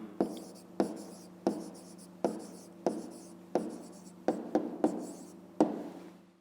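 A pen writing out a maths answer by hand on paper, heard as a series of short, crisp scratching strokes in an irregular rhythm, close and quiet, with no talking.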